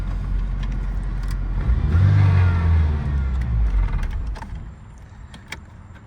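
A Ford Mustang Fox Body bought at auction idles with a low, steady engine rumble, swelling briefly in a mid-clip rev before settling back to a quieter idle.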